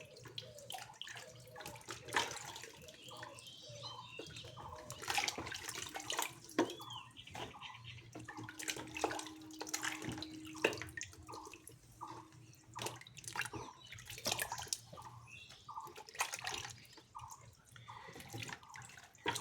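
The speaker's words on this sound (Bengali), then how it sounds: "এভাবে সমস্ত সবজিকে ধুয়ে" Vegetables being rinsed under a running tap into a sink, a steady close splashing and trickling of water with scattered drips and clinks throughout, no talking.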